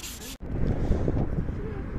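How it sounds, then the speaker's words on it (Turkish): A yellowed car headlight being wet-sanded by hand with 500-grit sandpaper, giving a continuous close-up rubbing and swishing after a brief click, with no voices. "Şimdi 500'lük zımparayla başlıyorum. Sulu zımpara yaparak işe başlayacağım."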